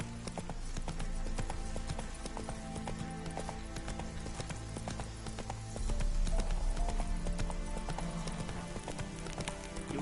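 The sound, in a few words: horse hooves clip-clopping, from a video game (horse named Roach)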